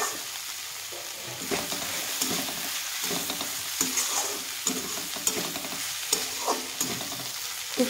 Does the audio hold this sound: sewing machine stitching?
no